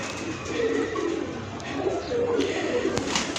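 Rampuri female pigeon with purple plumage and white eyes, soft low repeated cooing, faint and close under background noise.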